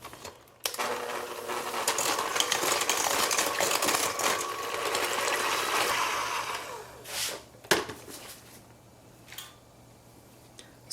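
Electric mixer whirring steadily through pumpkin doughnut batter with two eggs and vanilla, a continuous buzzing drone for several seconds, then stopping and leaving a few faint clinks and bumps.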